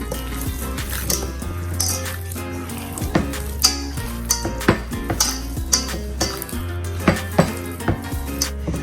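Filling ingredients with finely chopped garlic are worked by bare hands in a bowl, giving moist squelching and repeated knocks against the bowl in an uneven rhythm over a steady background hum.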